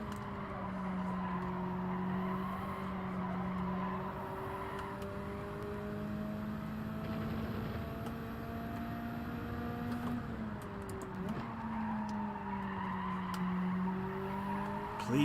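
Tires squeal and skid in long whining tones over a droning engine in the racing video game Gran Turismo 7, the pitch sliding as the car slides through turns, fairly quiet overall.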